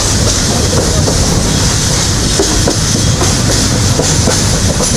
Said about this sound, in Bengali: ট্রেনটি কিছুক্ষণ দাঁড়িয়ে থাকার পর আবারও চলে চলল সিলেট উদ্দেশ্যে